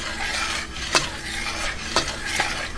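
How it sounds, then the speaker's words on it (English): Butter toffee being stirred in a pot, a soft continuous scraping with a few sharper clinks of the spoon against the pan, fairly quiet and with no one talking. "But now we're going to stir and we're going to wait"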